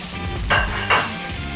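Steak stir-fry mixture is stirred in a pan, two brief scraping and clinking strokes of a utensil over a low background hum.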